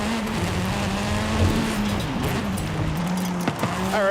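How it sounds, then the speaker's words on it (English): A racing-game car engine drones steadily, and a turbo whistle rises in pitch near the end over the engine noise. "I can hear a turbo in this thing."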